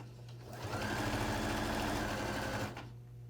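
A sewing machine runs steadily for about two seconds while stitching a bulky pillowcase held under the presser foot, with a close, even motor whir and rapid needle rhythm, and no voices.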